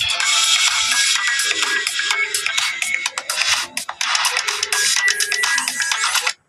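A cellphone rings with an incoming call, its ringtone a loud repeating electronic melody that plays continuously for several seconds and then cuts off abruptly.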